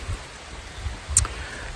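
Steady rain on a walk outdoors in Central Virginia, with flash floods forecast, heard as a constant soft wash of drops with a few faint nearby thumps and taps.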